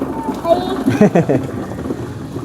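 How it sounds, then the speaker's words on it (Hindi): Rain and gusting wind outdoors in a Pahadi hill village, a steady broadband wash under a voice talking throughout. "बारिश फिर से शुरू हो गया है"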